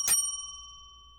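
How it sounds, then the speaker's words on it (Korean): A debate timing bell rings at a student debate competition in Osan, giving one sharp metallic strike that rings out and decays over about a second, with no voices. "5분이 지난 후 종소리 2회"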